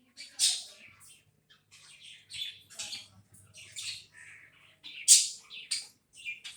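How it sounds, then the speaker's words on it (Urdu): Pet parrots in a home squawking and chirping in loud, close bursts, with harsh shrieks and short tweets scattered irregularly over a quiet low hum. "یہ دیکھیں طوطے, یہ شور نہیں کریں گے تو ان کو کھانا ہضم نہیں ہوتا"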